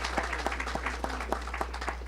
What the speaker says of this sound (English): let's give him an applause anyway